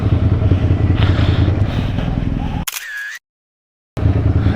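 A single camera shutter clicks while photographing a 500 SR Voom motorcycle in a parking area, a sharp snap after steady engine and crowd rumble, followed by a brief silence.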